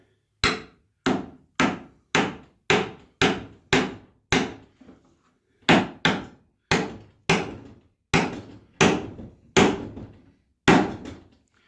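Sharp, evenly spaced hammer blows drive a paneling nail with a punch into a coyote mount, about eighteen close, loud strikes in two quick bursts separated by a short pause.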